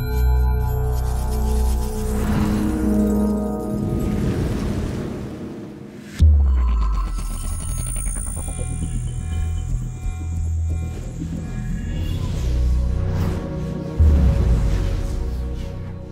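IMAX with Laser theater logo soundscape with music, built from deep throbbing hums and low rumbles that swell, cut off sharply and surge back with layered tones and sweeping effects.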